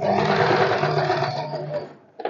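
A sewing machine stitches a katori blouse, its motor running in a steady, close, continuous whir for about two seconds before stopping, followed by a brief click as the needle is set down.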